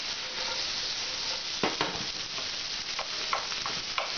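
Rice being stir-fried with chopped garlic and ginger for nasi goreng, a loud continuous sizzle broken by scraping strokes as the grains are tossed and broken up in the pan.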